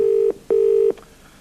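A telephone call connecting on a phone line produces two loud, steady electronic tones with a short gap between them, then drops to quiet line noise.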